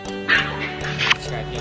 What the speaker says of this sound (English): here's my dog Bella